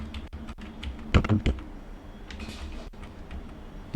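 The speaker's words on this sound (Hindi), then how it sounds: "मैं 30 दिन तक अपने अकॉर्डिंग यहाँ पर टाइप कर देता हूँ" Computer keyboard typing while attendance entries go into an Excel sheet: a scattering of crisp, close key clicks with a small cluster of quicker presses in the middle, fairly quiet over a soft room hum.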